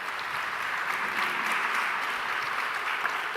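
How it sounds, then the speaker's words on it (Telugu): A church congregation claps in steady applause, a soft, even patter of many hands heard from a little distance that continues through the whole stretch. "వారి కొరకు చప్పట్లు కొట్టి దేవుని స్తుతించు"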